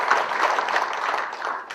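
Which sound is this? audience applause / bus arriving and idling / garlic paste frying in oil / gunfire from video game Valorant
audience applause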